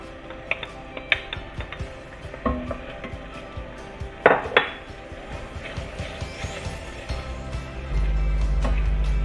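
Peeled tomatoes stirred into a pan of stuffed aubergine, with scattered clinks and scrapes of a utensil against the pan and a steady low sizzle that grows louder toward the end.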